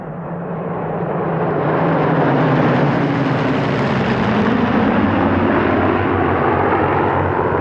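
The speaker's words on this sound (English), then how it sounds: "A formation of 9 Spitfires led by Ray Hanna in" Nine Spitfires fly in formation over Duxford at a 1996 airshow, led by MH434. Their engines make a loud, continuous drone that swells over the first two seconds and then holds steady.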